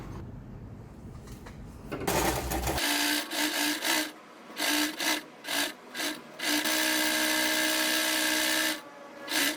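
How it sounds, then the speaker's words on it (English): A sewing machine top-stitches around the puffy flap of a fabric envelope-style artwork organizer, a steady close whir running in several bursts with short pauses between them and a few soft handling rubs at the start. "we're gonna top stitch around the flap"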